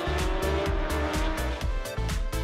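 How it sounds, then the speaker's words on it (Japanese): Superbike race at Suzuka on the opening lap as riders overtake, engines screaming and shifting in repeated rising revs, loud and close, with no voices. "しかしオープニングラップで水野が3台を抜き去り先頭へと浮上する"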